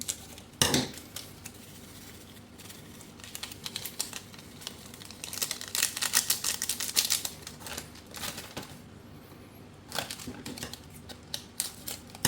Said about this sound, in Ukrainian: додаємо приправу у рисову вермішель